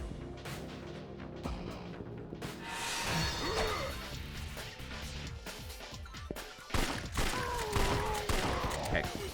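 A chaotic volley of gunshots and crashing impacts in a Yakuza action game, dense and fairly loud, layered with game effects and a faint voice.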